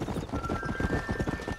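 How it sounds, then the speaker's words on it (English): Horses trotting in Red Dead Redemption: a quick, close, steady clip-clop of hooves hitting ground, several beats in under two seconds, loud and without speech. "Ooh, horses."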